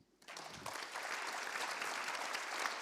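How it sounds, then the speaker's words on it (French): Audience applause at a launch event for an electric mobility project, a dense, steady clapping from a crowd that starts suddenly and holds at an even level throughout. "Je vous propose de les applaudir."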